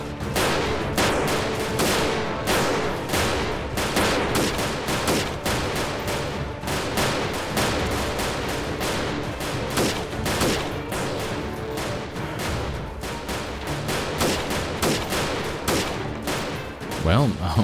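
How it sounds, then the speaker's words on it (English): Heavy gunfire with grenade explosions in Freeman Guerrilla Warfare, dense bursts of shots and booms crowding together without pause, loud and continuous, with a voice at times beneath the battle. "There's grenades going off as well."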